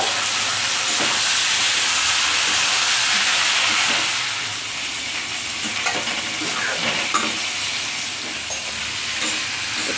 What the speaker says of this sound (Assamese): এতিয়া ৰাজমা আৰু কাবলি বুটখিনি দিছোঁ।